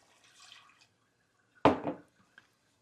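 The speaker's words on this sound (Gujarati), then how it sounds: "આપણે થોડું પાણી નાખી દઈએ" A little water is poured into a steamer prepared for nylon khaman, giving one brief splashing gush after faint earlier clinks.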